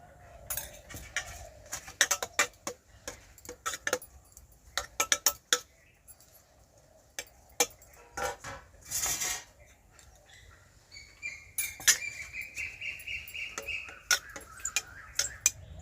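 Metal plates are handled and rubbed with oil, giving scattered clinks, scrapes and clattering knocks of metal at close range, irregular and separated by quiet gaps, with no speech.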